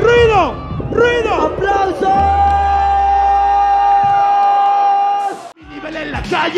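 A crowd roars, whoops and shouts at a Mexican freestyle rap battle, the FMS Mexico 2022 league event, with loud continuous cheering over a sustained tone and voices yelling throughout.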